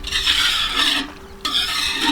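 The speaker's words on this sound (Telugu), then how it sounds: "ఈ ముందు పాలు ఇప్పుడు కస్టర్డ్ పౌడర్ కలిపిన పాలు రెండు ఇట్లా మిక్స్ చేసుకోవాలి." Milk mixed with custard powder is stirred steadily in a bowl or pot, a close continuous swishing and scraping with a brief pause partway through and no talk.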